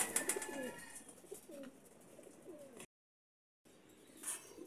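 Teddy pigeons, a golden breeder type, cooing in a loft, with soft low coos and a few faint chirps amid background noise, broken by a brief silent gap.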